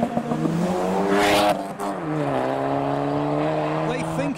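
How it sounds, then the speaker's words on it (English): A Renault Clio pulls away from a car show onto a business park roundabout. Its engine revs hard close by, rising in pitch, then drops through a gear change before climbing again. "Here comes the Clio."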